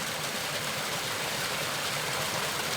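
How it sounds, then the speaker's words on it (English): A babbling brook in the Cook Islands, water flowing over rocks in a dense, steady rushing wash with no distinct splashes standing out, continuous and fairly close, no voices. "we have a very nice babbling brook. And the babbling part comes from the impact of the water on the rocks."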